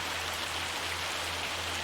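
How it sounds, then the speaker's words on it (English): Heavy rain falling in Farming Simulator 25, a dense, steady hiss of downpour filling the whole moment evenly with a low constant hum beneath, no talking. "That's some serious rain."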